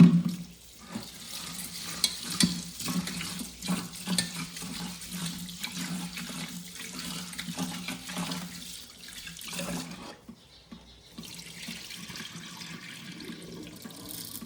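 Rice being washed in a few changes of water, with steady running and splashing water sounds up close, broken by short pauses and a brief quieter stretch near the end, and no talking.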